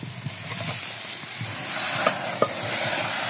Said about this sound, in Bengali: এবার ওই পাতিলের কাঁকড়াগুলো দিয়ে দে।